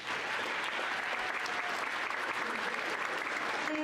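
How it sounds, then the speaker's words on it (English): Dense, even applause from a community theatre audience at a follies show fills the room without a break, a steady wash of many hands clapping at once. "So give yourselves a round of applause"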